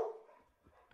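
A single dog bark rings out at the start and quickly fades, followed by faint room noise and small sounds.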